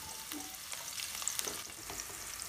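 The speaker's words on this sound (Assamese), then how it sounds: "এতিয়া মই কেঁকুৰাৰ চব্জি বনাবৰ কাৰণে তেল গৰম কৰিছোঁ। আৰু ইয়াতে দি দিছোঁ কাটি থোৱা পিঁয়াজ" Chopped onions hit hot oil in a pan for an Assamese crab curry, frying with a close, steady sizzle and crackle broken by a few light clinks of stirring.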